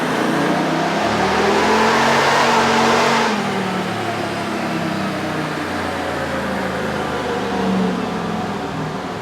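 A Dodge 1500 pickup with its stock air intake roars under load on a dynamometer, engine tone climbing steadily as revs build, then easing off into a lower sustained drone, loud and close with no talking.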